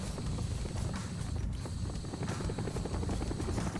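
A helicopter in Call of Duty: Black Ops thrums steadily and loudly throughout, its rotor chop continuous and close, with faint thuds mixed beneath it.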